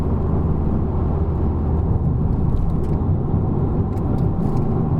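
Honda Civic Type R engine running steadily in fourth gear at about 3000 rpm, a continuous loud low rumble and whir from inside the moving car with no speech.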